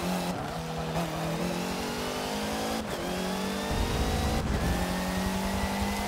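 Race car engines in a Forza 7 video game race drone steadily and loudly, with the pitch dipping and climbing through gear shifts as several cars run close together, and no talk over them.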